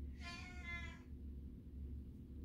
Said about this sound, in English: You'll probably hear my cat.